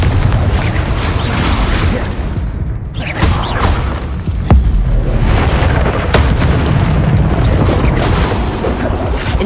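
Confringo fire-spell blasts in the Hogwarts Legacy video game: deep booming explosions with heavy low rumble and sharp bursts, repeated several times over continuous battle noise.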